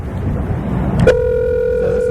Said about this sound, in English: we're calling him on the phone here